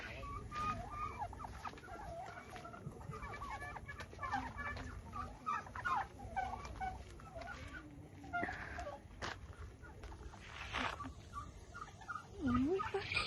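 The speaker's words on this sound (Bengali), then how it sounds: "টার্কি আছে" Turkeys gobble and cluck among other fowl at a farm with emus and greenhouses, a faint, busy outdoor mix of bird calls with a louder call near the end.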